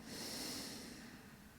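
A long, steady nasal exhalation during calming French pranayama breathing practice, a close, continuous breathy rush that slowly fades over under two seconds, with no talking.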